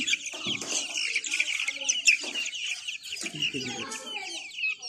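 Several month-old Colombian Brahma chicks clucking and squawking close by, overlapping in a busy, continuous chatter.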